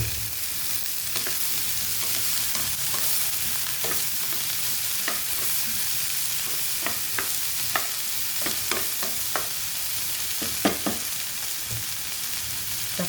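Eggplant, okra, sardines and egg fry in a pan with a steady sizzle, while a utensil stirs and scrapes with scattered sharp clinks throughout.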